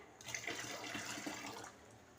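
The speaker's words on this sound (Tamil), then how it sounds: "நான் அந்த பாத்திரத்தில் கொஞ்சம் தண்ணியை ஊற்றி அதையும் அலசி இது கூட சேர்த்துக்கிறேன்." Water is poured into a cooking vessel and swirled to rinse it while making black urad dal porridge, a short soft splashing and trickling burst heard close but quietly, fading after about two seconds.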